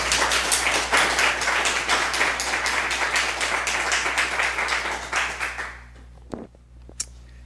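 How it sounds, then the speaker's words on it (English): An audience applauds at a fellowship presentation, a dense steady wash of clapping that holds for about six seconds before thinning out and stopping, with a couple of stray claps trailing in the quiet afterward. "Can we give him a round of applause?"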